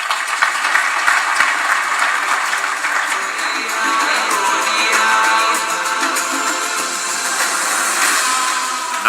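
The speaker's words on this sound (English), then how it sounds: "Another round of applause for both the heads of state for wonderful statements." Audience applause for two heads of state at an international investors' gathering in Nairobi: a large hall of sustained clapping, loud and even, rolling on steadily with no speech over it.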